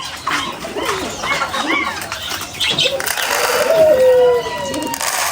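Pigeons in a large cage coo close by, with soft throaty calls, brief wing flutters and a few squawks, while a person talks over them.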